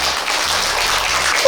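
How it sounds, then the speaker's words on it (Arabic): An audience claps for a young contestant named Rania on a televised game show, a dense, steady wash of applause that holds at full level throughout. "عطونا تصفيق على رانيا"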